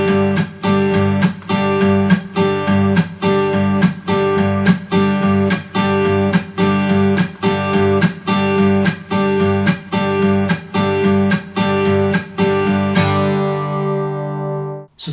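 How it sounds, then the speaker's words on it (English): Guitar strummed in a steady triplet pattern, the first of every three strums muted to a percussive chunk, repeated cleanly for about thirteen seconds before the final chord rings out alone. "in every group of 3 strums we're going to be muting the first one"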